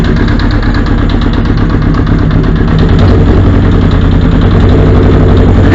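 A Honda CB750 motorcycle engine idles on a cold, rainy day, a loud, close, steady rumble with a fast, even pulse and a faint ticking tap running through it.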